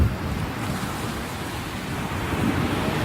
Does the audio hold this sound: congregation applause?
no